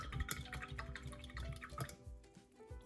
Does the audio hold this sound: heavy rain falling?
no